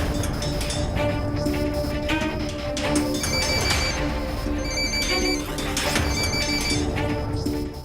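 An outgoing phone call rings, its tone repeating in short regular bursts, steady and moderately loud over dense background music, with no talking.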